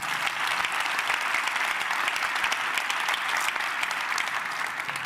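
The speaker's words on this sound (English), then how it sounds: "Let's give that round of applause" Steady, dense applause from a large audience at an official announcement event about the 2024 NFL Draft in Detroit, filling the whole stretch evenly and loudly with no voices on top.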